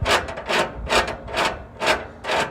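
Metal cutout on a homemade barrel stove lid sliding back and forth, five rhythmic scraping rubs at a steady pace, close and fairly loud with no talk.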